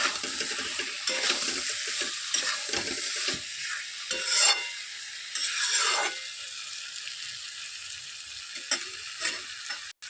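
A spatula stirs prawn masala in a pan, with repeated scraping strokes over a continuous bright sizzle, close and fairly loud, with brief pauses between strokes.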